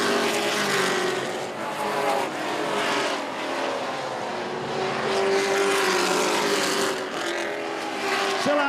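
Race trucks in a CTS Affordable 250 racing on a track, their engines roaring continuously at close to middle distance and rising and falling as they pass, with no one talking.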